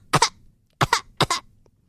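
A person imitates a parrot coughing, producing three short, harsh two-part coughs spaced apart, close and fairly loud with quiet gaps between them.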